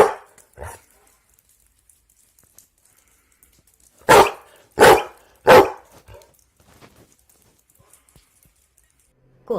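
A dog barks in short, sharp bursts, with a couple of faint yaps early on and then three loud, close barks in quick succession, separated by stretches of silence.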